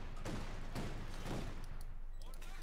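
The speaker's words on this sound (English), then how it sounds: "A vicious barrage of bullets, preventing them from further advancing" Sustained gunfire barrage in Company of Heroes 2, a WWII real-time strategy battle with German MP40s against Soviet troops, rolling bursts of rifle and machine-gun fire at steady loudness with a voice talking over it.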